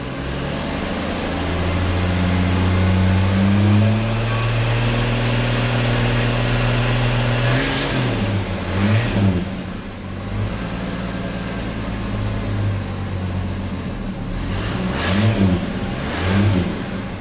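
A budget turbocharged car engine revs hard and steadily for several seconds, then drops back and settles into a rough, slightly rich idle with a few short throttle blips, loud and close with no talking.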